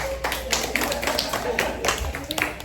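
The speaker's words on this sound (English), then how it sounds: "Give her a hand clap" Women at a conference session clap for their teacher, a loose ragged patter of several hands nearby, spread out and uneven.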